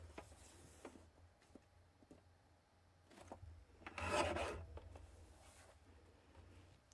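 Craft paper being cut with a blade or trimmer, taking about half an inch off the bottom of a sheet: soft, close rasping and rubbing strokes, with one louder, longer scrape near the middle in an otherwise quiet room.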